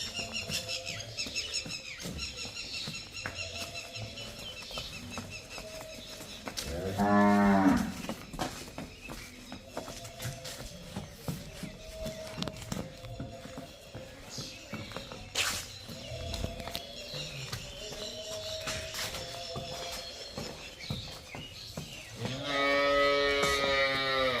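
Buffalo and cows at a dairy farm where animals are up for sale give loud, drawn-out moos, two clear calls near the middle and end, over steady barnyard background noise and faint bird chirps.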